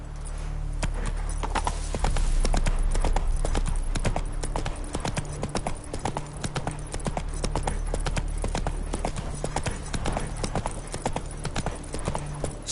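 Roach, a horse in the video game The Witcher 3, gallops at a fast, steady clip-clop rhythm close by, over a low continuous background hum.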